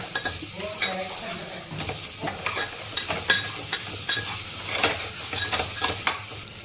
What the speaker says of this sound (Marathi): याला थोडंसं बारीक गॅसवरती तांबूस कलर असं येईपर्यंत फ्राय करून घेऊया आपण.